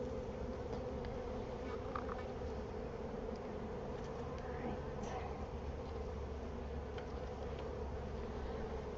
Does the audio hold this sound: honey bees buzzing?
yes